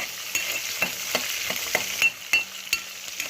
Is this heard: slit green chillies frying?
yes